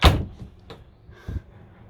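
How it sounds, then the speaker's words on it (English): A washroom door on a motorhome is pushed shut, giving one close, solid thud followed by a lighter rattle and a second softer knock, with no talking. "If you want to close the door, you do that."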